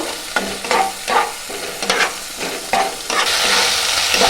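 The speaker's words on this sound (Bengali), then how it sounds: "এটাকে সমস্ত মশলাটাকে ভালো করে আমি এইভাবে কষতে থাকবো।" Garlic, cumin and green chilli paste sauté in a pan, with a loud, close sizzle punctuated by a quick series of spatula scrapes and knocks that settle into a steady hiss.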